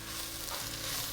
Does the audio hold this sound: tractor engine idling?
no